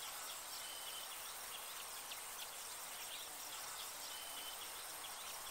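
Faint birdsong outdoors, with scattered light chirps and calls over a soft steady hiss of insects or distant water, very quiet and distant.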